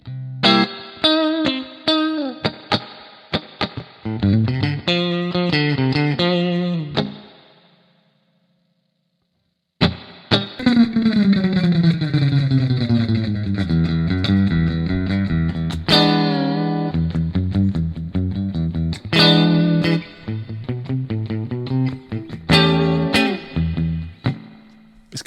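Electric guitar played through the AmpliTube 5 amp simulator with reverb, ringing chords and picked runs with a wide, washy tail, loud and close, broken by a brief silence before playing resumes.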